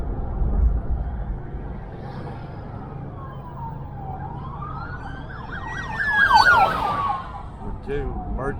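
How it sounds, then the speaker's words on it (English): Police car and ambulance sirens wail, rising and falling as they approach, then break into rapid yelping sweeps, loud and close, over steady road rumble. "Now we got a cop and an ambulance coming behind us."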